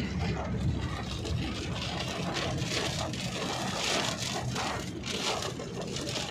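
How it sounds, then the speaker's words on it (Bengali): Heavy rain drums steadily on a car's roof and windows, heard from inside the vehicle at night, as a dense, constant hiss and patter with no pauses. "প্রচন্ড বৃষ্টি হচ্ছে গাইস।"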